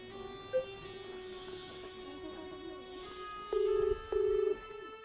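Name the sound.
telephone being dialed and ringing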